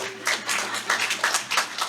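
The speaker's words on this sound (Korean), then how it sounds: "이제 박수 좀 부탁드립니다" Scattered audience clapping at a memorial ceremony, a short burst of several separate hand claps with uneven rhythm, fairly close and moderately loud.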